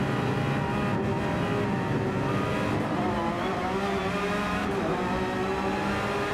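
Racing car engine in a Nordschleife sim racing game, revving hard and climbing through the gears, then dropping back down, with a continuous loud harmonic drone throughout.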